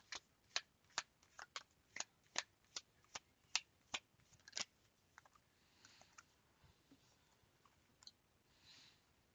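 Tarot cards are shuffled by hand in a quick run of crisp, evenly spaced riffling slaps, close but soft, then tapering into lighter shuffling and scattered small taps.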